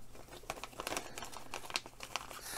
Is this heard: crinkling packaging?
yes